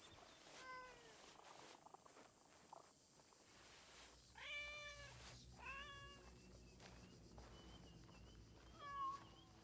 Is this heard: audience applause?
no